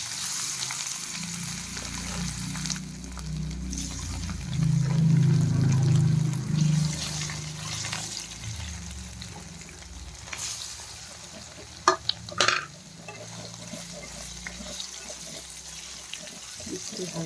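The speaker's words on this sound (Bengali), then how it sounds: "পনিরটা তারপর একটু হালকা ভেজে নেব।" Paneer lightly frying in oil, a soft continuous sizzle close by with intermittent stirring and clinks of a utensil against the pan, swelling briefly midway and settling back to a low crackle.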